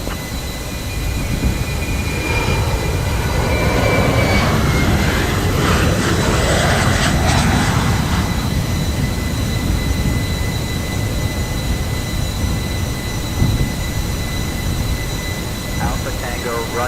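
Turkish Airlines airliner jet engines roar steadily on takeoff in Microsoft Flight Simulator 2020, a loud sustained rumble with a rising whine that then levels off over a long stretch.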